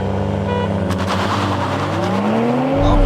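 A Toyota Supra launching hard off the line at the start of a drag race, its engine note loud and close as revs climb steadily in a rising whine under constant road roar.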